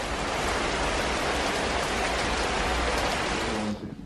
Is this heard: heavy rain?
yes